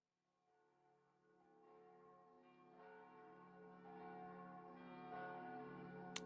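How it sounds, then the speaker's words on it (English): Old church bells ring in the opening of a song, fading in from silence and swelling steadily into sustained, resonant tolling that grows louder toward the end. "I love old church bells."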